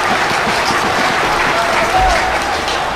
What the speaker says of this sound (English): the crowd is loving every minute of it